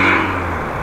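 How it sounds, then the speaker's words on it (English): A noisy car rushes past on an evening street near Groningen, a brief, loud, close roar with a low engine drone that eases slightly as it goes. "Man, what a noisy car."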